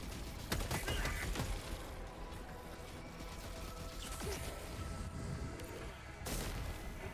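Gunfire rings out in the game Helldivers 2 against zombie-like enemies, a dense stream of sharp shots and impacts with a few louder cracks, continuous and fairly busy throughout.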